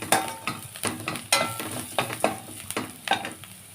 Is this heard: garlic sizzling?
yes